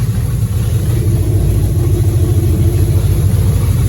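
A worn-out beater race car engine runs steadily at close range, a loud, rough low rumble with a throbbing idle pulse that holds unchanged throughout, with no voices.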